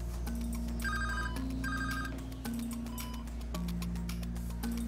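Telephone ringing in a hospital intensive care unit, a repeating electronic ring tone in steady bursts over a continuous low hum, with no voices.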